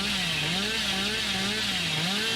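Hillbilly's chainsaw from the video game Dead by Daylight revs loudly and continuously, its buzzing pitch wavering up and down in short cycles, close and alone.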